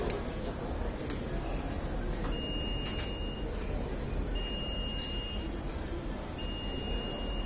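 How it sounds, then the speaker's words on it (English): The electronic buzzer of a dry hand-washing machine using fog disinfection and UV light beeps in short, repeated tones at regular intervals over a steady background hum when the cycle completes. "After the completion and the time counting, buzzer will be give a noise."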